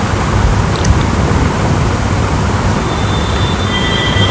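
A long passenger train on the Ahmedabad to Thrissur route runs along the tracks with a loud, steady rumbling roar, heard continuously and up close from on board with no pauses or talk.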